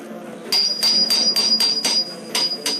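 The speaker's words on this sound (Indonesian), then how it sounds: "Salah satu dari mereka pun mulai memukul tembok tersebut dengan sebuah palu." A hammer strikes a wall inside an old building: about nine sharp, evenly spaced knocks over a low background hum, with a steady high electronic tone running through.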